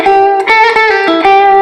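An electric guitar played through overdrive rings out in a short, loud, close phrase of sustained, gritty notes and bends, with several picked attacks.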